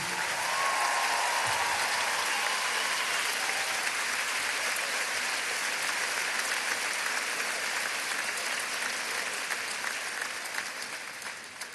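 Large concert crowd at the Zénith Aréna in Lille applauding loudly for a live performance, a thick, sustained roar of clapping that holds steady for about ten seconds before easing slightly at the end.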